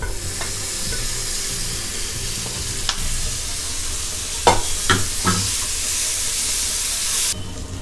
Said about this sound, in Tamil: இப்போது இதை வந்து நல்லா ஃப்ரை பண்ணிகிட்ருக்கோம்